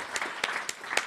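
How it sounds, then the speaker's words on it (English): A panel discussion audience applauds faintly and briefly, with a handful of distinct claps over soft crowd noise. "Can we give them all a round of applause?"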